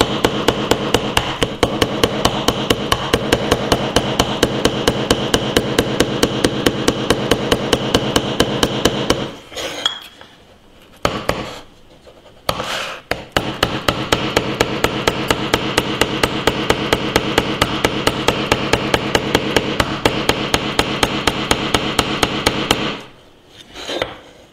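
Rapid, steady hammer blows drive a nail into an Oukitel K4000 smartphone, sharp close knocks repeating many times a second, with two short pauses before the pounding resumes.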